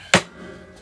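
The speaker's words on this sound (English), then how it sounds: "Let's get the hammer out." A hammer strikes a chisel on a Honda motorcycle's triple tree bearing race, one sharp, loud metallic hit followed by quiet workshop noise.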